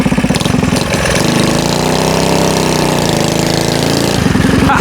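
A stationary engine mounted on a motorized skateboard runs loud and close, a steady rough throbbing drone with a sputtering start that settles into an even, continuous rev.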